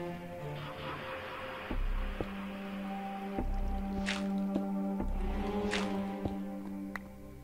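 Water seeping and dripping through blocks near a lake in Minecraft on PS4, heard as soft squishy liquid drips scattered over a steady droning background, with a few sharp close ticks.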